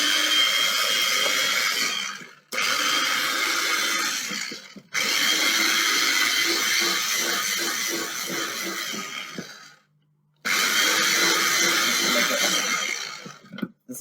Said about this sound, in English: I don't have one, so I'm doing a hand blender.